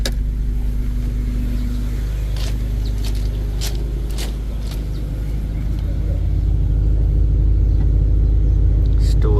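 Two 15-inch subwoofers in an infinite baffle install, driven by a 4500-watt RMS amplifier during a bass SPL test, pound out a deep, loud, steady low drone with rattling on top, while faint voices come through under it.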